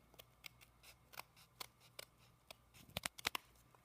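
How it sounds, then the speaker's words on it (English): Scissors trim frayed edges of a burlap-covered card, a run of short crisp snips, a few spaced apart at first and then a quicker close cluster near the end, with no talking. "now we're going to trim those edges so we don't see all that funky stuff hanging off"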